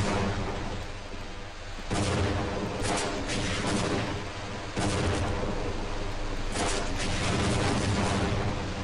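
Rockets slam into a tank in the video game Half-Life: Blue Shift, a continuous barrage of loud, rumbling blasts with heavy booms swelling near two, five and seven seconds, no voices.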